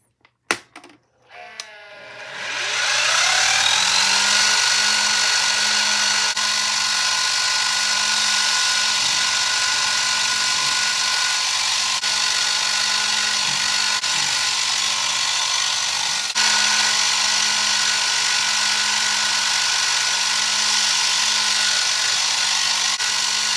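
A drill on a PM Research model mill bores holes in metal, its motor rising to a steady, even whine after a few sharp clicks and holding constant and close without a break.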